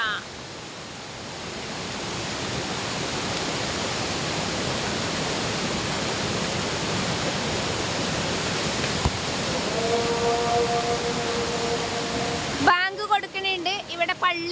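The Kottappuzha river in flood, a steady broadband rush of flowing water close by, with a faint tonal sound near the end before it cuts off abruptly.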